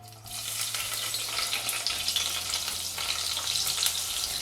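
Cut green chillies fry in hot sesame oil, giving a steady, dense crackling sizzle that stays fairly soft and continuous, with no voices.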